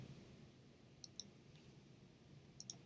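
A computer mouse clicks in two quick pairs, each click faint and crisp against quiet room hiss, about a second and a half apart.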